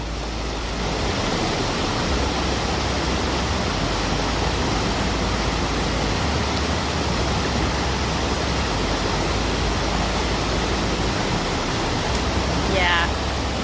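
A fast stream on the Appalachian Trail in Connecticut rushes loudly past a log crossing, a dense, constant roar of water that fills the whole scene and barely varies.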